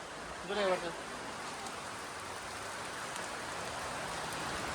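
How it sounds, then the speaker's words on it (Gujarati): Steady, dense rain pours down without a break, with a brief voice early on. "કેટલો બધો ફાસ્ટ વરસાદ ચાલુ થયો હતો કેવો વરસાદ પડે છે"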